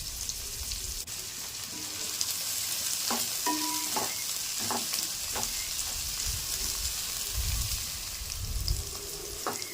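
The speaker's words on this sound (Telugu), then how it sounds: "మనకి ఉల్లిపాయ అయితే లైట్గా ఫ్రై అయింది కదండి" Chopped onions and green chillies sizzle steadily in hot oil with a bay leaf in a pan for biryani, a constant frying hiss broken by several sharp scrapes and clinks of a stirring spoon.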